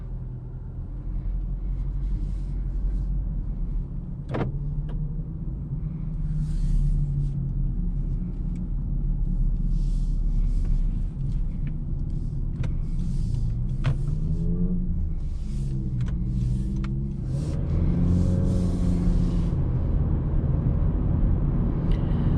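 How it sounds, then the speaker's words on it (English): Low road rumble fills the cabin of a 2022 Honda Civic LX in motion, a steady engine and tire drone with faint rattles and brief clicks over the constant hum. "driving this 2022 Honda Civic LX drives nice and smooth, very comfortable"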